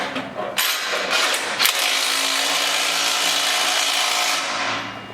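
A power tool whirs steadily and loudly for several seconds, tightening bolts on a Z Buck loader attachment for a Toro zero-turn mower, with a couple of brief catches near the start.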